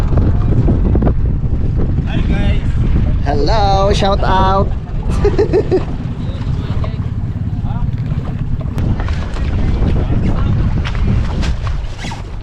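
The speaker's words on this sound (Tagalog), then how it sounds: "Lakas ng hangin." Strong wind buffets a small bangka at sea, a loud, constant low roar across the whole stretch, while people talk over it.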